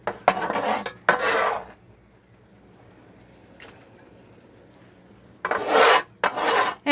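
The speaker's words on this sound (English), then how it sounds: "Now I'm going to go ahead and add these tomatoes to my pot." Chopped tomatoes are scraped off a surface into a cooking pot, giving two clusters of rough, rasping scrapes with a quiet gap and a faint clink between them.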